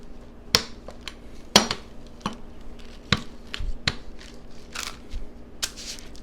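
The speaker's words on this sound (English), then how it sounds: "here's where the rolling pin comes in, and we start rolling this out again" Pie dough for mini fruit pies being worked with a rolling pin on a floured surface, heard as a series of sharp, close knocks and thumps spaced irregularly over steady faint background noise, with no talking.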